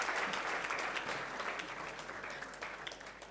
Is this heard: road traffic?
no